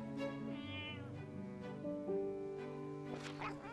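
Game cats in a mobile puzzle mew in quick succession, several short cries layered over continuous cheerful background music, with no voices.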